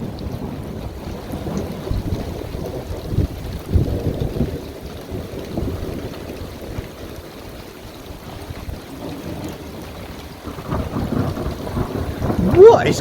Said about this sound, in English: This has got to be a supernatural storm.